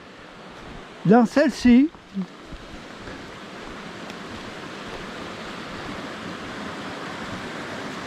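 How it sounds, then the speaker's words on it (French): Rushing water at the junction of two mountain torrents, the Lyonne and the Léoncelle, in the wild Royans area of the Drôme, a steady broadband roar running through the whole clip, with a brief stretch of speech near the start. "Nous sommes au croisement, à la jonction des deux rivières torrents"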